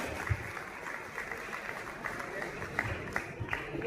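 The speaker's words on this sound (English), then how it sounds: "Applause everyone, come on." Audience applause at a National Veterinary Day celebration, a soft, diffuse patter of clapping spread across the hall, fairly faint and continuous, mixed with crowd murmur and a few sharper claps.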